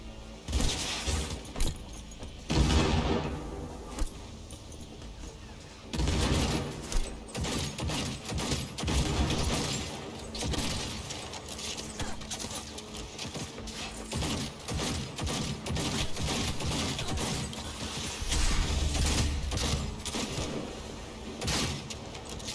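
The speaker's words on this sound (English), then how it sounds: "Open fire!" Gunfire in the video game Cyberpunk during a firefight, dense continuous bursts and impacts mixed with crashing, breaking debris, loud and unbroken throughout.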